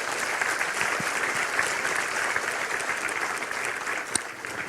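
An audience at a talk concert held at the Korean National Assembly applauds, a steady moderate clapping from many hands in a hall that continues throughout without talking.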